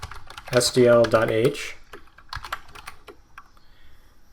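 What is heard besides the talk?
typing code on a computer keyboard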